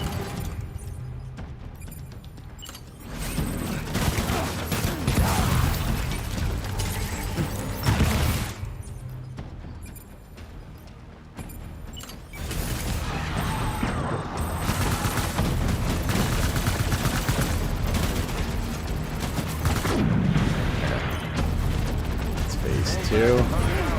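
Gunfire from assault rifles in the video game Death Stranding 2, dense crackling bursts layered with loud booms and mechanical noise, continuing across most of the stretch with brief lulls, while a voice speaks over the action.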